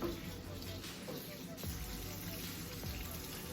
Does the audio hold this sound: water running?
yes